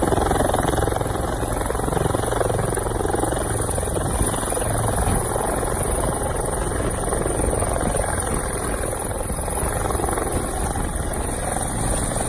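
A helicopter drones steadily overhead during a movie stunt rehearsal, dropping troops onto two cars, its rotor chop and engine whine holding loud and constant throughout.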